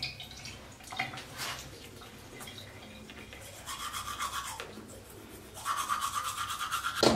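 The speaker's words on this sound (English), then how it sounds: "I am done brushing my teeth." Teeth being brushed with a toothbrush, a close scrubbing rasp in uneven bursts with faint dripping water in the background, growing louder and more vigorous toward the end.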